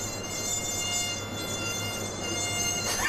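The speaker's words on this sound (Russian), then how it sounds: "Это комар летает?" A thin, steady high-pitched whine like a mosquito buzzing holds continuously against a faint low hum, with no speech over it.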